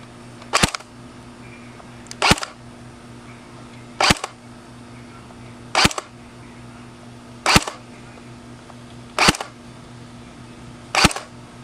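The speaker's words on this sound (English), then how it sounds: "we're going to show you the FPS using the .20 gram BBs, firing out of the Classic Army P90 Sportline" A Classic Army P90 Sportline airsoft gun fires 0.20 g BBs in seven evenly spaced single shots, each a sharp close snap roughly every one and a half seconds, over a low steady hum.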